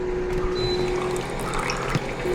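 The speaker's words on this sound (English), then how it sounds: "Yeah, we'll put a little bit of water in here." Water poured into cold brew coffee gives a steady, close trickling pour lasting a couple of seconds over a low background hum.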